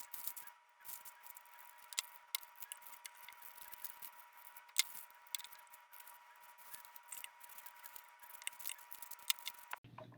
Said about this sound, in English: cut out this page